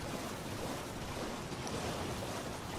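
River water flowing in Elden Ring, a steady, even wash of rushing noise that stays constant and fairly soft throughout.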